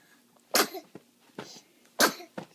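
A three-month-old baby sneezing, two sharp bursts a little over a second apart, each followed by a small breathy catch, close and clear in an otherwise quiet room.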